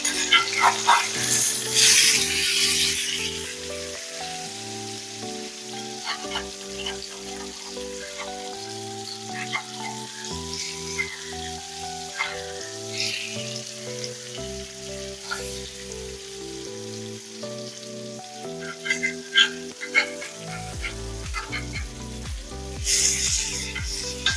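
Kanagantalu fish fry in a pan with a continuous hot sizzle and crackle, sitting beneath steady background music throughout.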